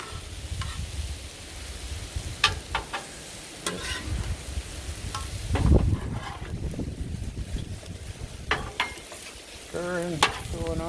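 Kielbasa and cabbage sizzle steadily on a griddle while a utensil stirs and scrapes in sharp, irregular clatters across the metal, with a constant frying hiss throughout.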